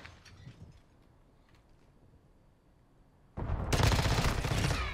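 Dense automatic gunfire from the Tempus Razorback in Modern Warfare 2 bursts in loud and close after several quieter seconds of distant shots and game ambience, then rattles on continuously.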